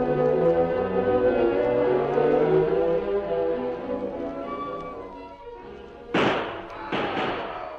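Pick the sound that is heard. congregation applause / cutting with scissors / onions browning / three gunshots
three gunshots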